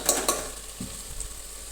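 Tomatoes and chillies in a pot for salty rice get stirred over a low sizzle, two sharp spoon clanks against the metal near the start followed by softer scraping, brief and close.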